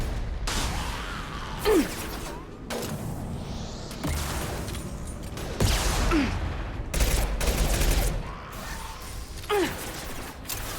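Scoped rifle fire in Mass Effect 2, sharp shots at intervals amid mechanical clanks and combat noise, with short gaps of quieter ambience between bursts.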